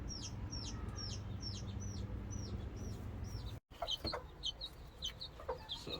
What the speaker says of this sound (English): I really like this pullet, or I can call her a hen now